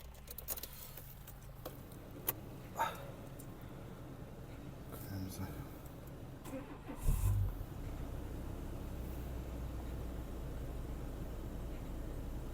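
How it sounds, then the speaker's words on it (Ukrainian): A 2010 Dacia Stepway 1.6 MPi petrol engine, cold-started after sitting overnight, settles into a steady low rumble after a brief burst around the seven-second mark, idling evenly with faint clicks and rustles early on. "Запустимо двигун, послухаємо, як працює."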